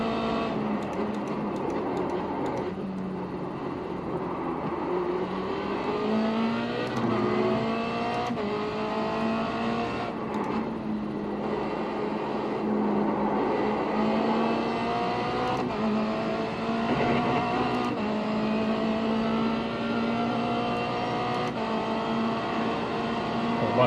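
Several small race cars in iRacing lap Phillip Island with a continuous, loud engine drone whose pitch climbs and falls as they accelerate and shift.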